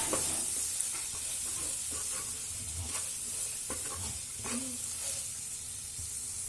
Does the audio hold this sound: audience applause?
no